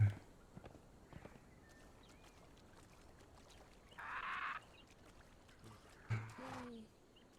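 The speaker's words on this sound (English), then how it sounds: "You're having too much fun with that horse, Bart." Horse hooves clopping slowly while the horse walks in a video game, faint and irregular, with a few louder bursts of game sound mixed in.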